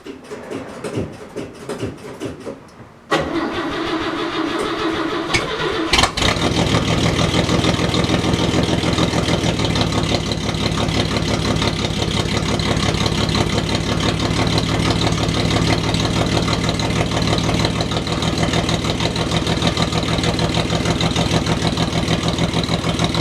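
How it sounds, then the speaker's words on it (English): A loud, raw V8 engine in a straight-piped 1957 Chevy, with a galvanized fence post as mid pipe, rumbles steadily with an uncorked, open-exhaust bark after a brief lower idle at the start, running continuously close by. "How does a straight piped 57 Chevy sound with a galvanized fence post for a mid pipe?"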